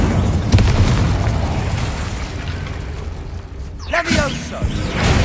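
An Incendio fire spell cast in a Harry Potter video game bursts out as a whooshing, booming flare about two-thirds of the way through, rising above a dense, continuous game soundscape.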